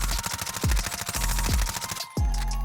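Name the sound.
MP5 gunfire with uncontrolled recoil in a video game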